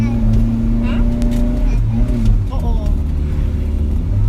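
A car with an automatic gearbox in D climbs the steep, winding Route 1249 up Doi Ang Khang, its engine droning loud and close as the transmission shifts, the tone rising in steps with wind and road noise throughout.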